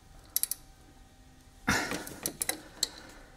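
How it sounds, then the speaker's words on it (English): A 14 mm wrench tightens the drive belt pulley bolt on a Toyota Prius engine, giving sharp metallic clicks and taps, a louder clunk midway, and a few more scattered ticks against a quiet background. "use that 14 millimeter to tighten that bolt on that pulley"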